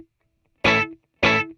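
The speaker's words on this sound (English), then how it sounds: "So this would be if your feedback knob was set to 0, that's not really 0, it's 1" An electric guitar run through a delay pedal with feedback at minimum plays one short, bright note, and a single identical repeat follows about half a second later, with silence around both.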